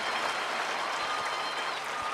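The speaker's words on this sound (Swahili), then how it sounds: "Let's give the Lord a hand clap offering." A large crowd at a stadium Holy Ghost and Fire Encounter gives a hand clap offering. The sustained, dense applause rings out across the open venue without pause.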